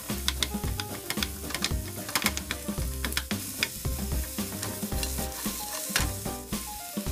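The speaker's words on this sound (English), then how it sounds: "Let's stir fry the vegetables and meat." Onion stir-fried in oil for a Korean bibimbap: loud, close sizzling under rapid, rhythmic scraping and clacking of a utensil against the pan, repeating steadily throughout with no talk.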